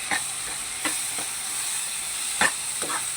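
Masala with turmeric and spice powder sautéing in a pan for mutton gravy hisses softly and steadily, broken by a few quick stirring scrapes and taps, close and without talk.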